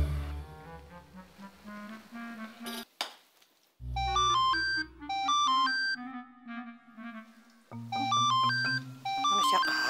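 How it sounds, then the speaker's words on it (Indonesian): A mobile phone plays a melodic electronic ringtone in repeating bursts of bright beeping notes, with short gaps between rings, in an Indonesian TV drama scene. "Gue telepon aja si Neneng"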